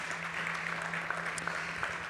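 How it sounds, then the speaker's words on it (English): An audience at a startup competition stage event breaks into steady applause, a dense spread of clapping at moderate volume, continuous for about two seconds with a faint low hum underneath. "And big applause for Emil,"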